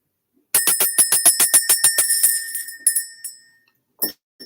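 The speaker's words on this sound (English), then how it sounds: "So we're going to ring the bell." A small bell rung rapidly about a dozen times to clear energy, bright and metallic with a shimmering ring, then a few slower strikes trailing off into quiet, close and alone.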